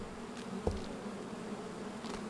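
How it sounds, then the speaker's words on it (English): Bees buzzing in a video game, a faint steady drone with a brief louder thump partway through, the insect hum hovering low beneath the game's ambient bed. "there's that bees again"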